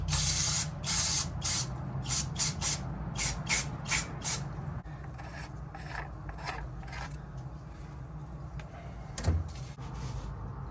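Parts cleaner is sprayed during an oil and filter change on a John Deere Gator XUV835M, in a series of short, sharp aerosol hisses. The bursts come close together and then thin out into quieter handling noises.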